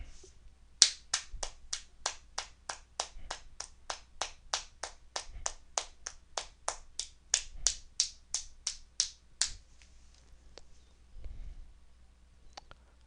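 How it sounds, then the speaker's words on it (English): A crowd applauds service members of the United States Armed Forces at a Navy retirement ceremony, with about twenty sharp, evenly spaced claps rising to loud strength, then thinning into a few scattered late claps. "give these fighting men of the United States Armed Forces a round of applause"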